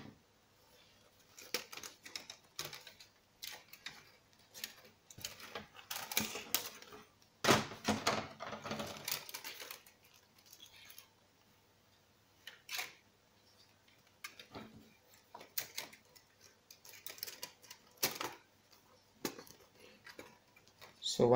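Acer ES1-512 laptop keyboard being pressed back into place, a scatter of faint plastic clicks and taps with brief rustling handling noise, close and quiet throughout.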